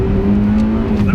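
Honda Civic EP3 Type R in second gear, engine revving hard from around 3000 rpm with a steady rising tone as VTEC engages, loud and close from inside the car, with some voice in the background.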